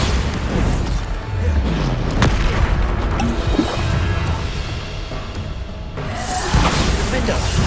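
Bombarda explosion spell in Hogwarts Legacy, heavy booming blasts and rumbling impacts over a loud, dense game-combat background, with a voice speaking over it.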